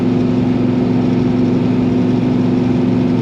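A 1970 Dodge Super Bee with a 383 Magnum V8 and four-speed, a one-owner survivor car, holds a steady loud rumble at elevated revs around 3,000 RPM, droning evenly with no voices over it.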